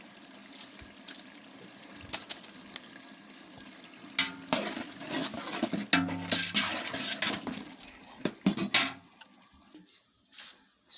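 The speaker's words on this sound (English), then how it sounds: "you can see the pot boiling" A pot of rice with curry powder is stirred and bubbles on the stove, with scraping, clinking and watery gurgles, quiet at first and then busier and louder in the middle.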